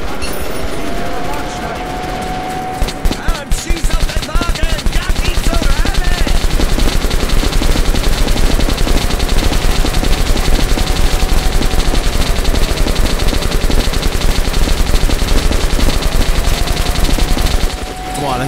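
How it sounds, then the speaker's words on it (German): A heavy machine gun hammers out long, relentless automatic bursts in Metro: Last Light Redux against a heavy soldier, a loud, rapid, evenly paced stream of shots that runs for about fifteen seconds before stopping. "Vielleicht mit dem fetten MG einfach draufballern."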